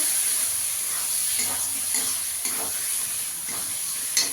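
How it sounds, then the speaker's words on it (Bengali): Tomatoes and masala sautéing in a pan for chicken lal jhol, with a steady hiss and sizzle broken by periodic stirring scrapes about every half second, fairly close. "দিয়ে ভালো করে কষিয়ে নেবো মশলাটাকে"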